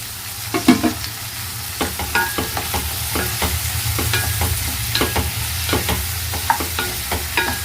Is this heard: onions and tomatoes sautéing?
yes